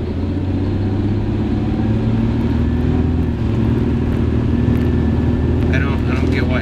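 A car engine sputters and nearly stalls while driving behind a semi-truck, the vehicle fitted with an air lift suspension kit. A steady loud engine and road drone sits under a person talking.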